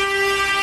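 A car horn sounds in one steady, unbroken blast on a city street during a traveling fairground workers' protest near Piazza Cavour, close and loud the whole time with no talk.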